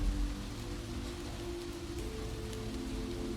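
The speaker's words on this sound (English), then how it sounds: "Rain taps steadily on the pavement, on parked cars, on the leaves of the sidewalk trees that line the block." Steady rain falls on city pavement and parked cars on a tree-lined New York street at night, a dense, even hiss with soft low rumble that holds constant throughout, no voices.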